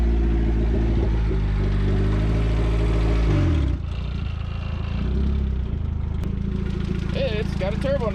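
Turbocharged Infiniti G35 Coupe engine revving loudly and close, its deep rumble rising and then dropping off partway through, with speech heard over the engine noise.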